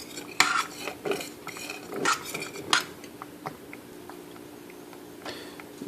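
A spoon stirs southern grits in a pot, giving a run of close, bright metallic clinks and scrapes against the pot that start busy and thin out toward the end.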